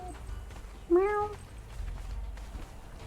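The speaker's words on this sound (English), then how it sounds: "That's the in-game cat, not one of mine." A cat meows once in the Conan Exiles video game, a clear, rising-and-falling call close by over a low background hum, with quiet surroundings before and after.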